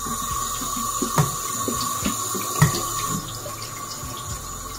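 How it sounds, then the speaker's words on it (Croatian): Beef tripe is rinsed under a running kitchen tap, the water rushing steadily and loudly from start to finish with a few soft splashes as the tripe is handled and no voices. "Ja ću još malo da ih isperem ovdje,"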